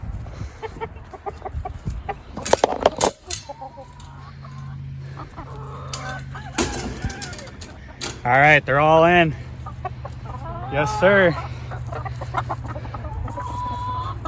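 Chickens and a rooster in a coop cluck and squawk close by, with a loud rooster-like call rising and falling in repeated wavering cries, over rustling handling noise while someone talks briefly.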